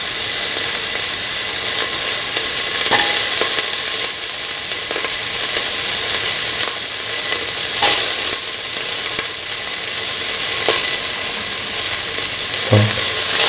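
Onion pieces fry in ghee in a hot pan, giving a continuous close sizzle and hiss with occasional stirring clicks and scrapes, and no talking.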